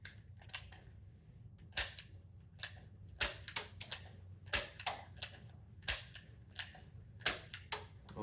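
A toy revolver loaded with dart shotgun rounds fires in a series of sharp, snappy pops, roughly a dozen shots spaced unevenly over several seconds, with faint mechanical clicks between them and no talking.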